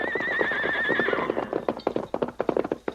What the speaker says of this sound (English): It's an army horse, Tonto.